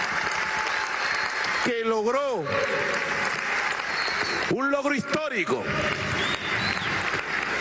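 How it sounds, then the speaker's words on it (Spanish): A large crowd at a women's assembly in Caracas's Poliedro arena applauds in a continuous roar, with someone speaking loudly over it at two points before the clapping carries on alone. "Y yo pido un aplauso para la presidenta del CNE"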